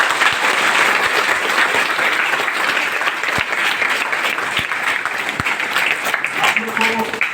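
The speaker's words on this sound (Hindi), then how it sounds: "इस पर जोरदार ताली।" Loud, steady applause from an audience at a motivational event at an IAS coaching academy, dense clapping filling the whole stretch with a few sharper claps standing out and a faint tone near the end.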